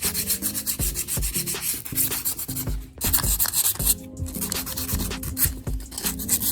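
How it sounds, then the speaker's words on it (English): Sandpaper rubs back and forth over the metal surface of an old fridge compressor, producing close, continuous scratchy strokes with a brief pause partway through and no voices. "First, I'll clean the surface of the compressor with sandpaper."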